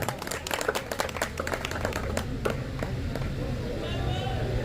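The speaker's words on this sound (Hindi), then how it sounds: "जोरदार तालियों से तन्वीर भाई का स्वागत करें" Audience applause welcoming a prize winner at a pigeon-flying tournament prize distribution, a burst of dense clapping that fades after a few seconds into crowd murmur and background chatter.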